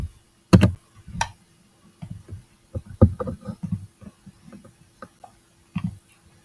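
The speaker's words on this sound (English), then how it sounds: "I need to get a silent keyboard. My keyboard loud." Loud computer keyboard typing at a desk, heard as irregular bursts of close, heavy key clacks with short pauses between them and no talk.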